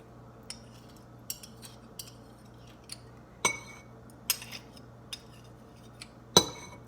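A banana goes into a bowl while utensils clink against it: sparse, sharp metallic and glassy taps at irregular intervals, close and fairly quiet, over a faint hum.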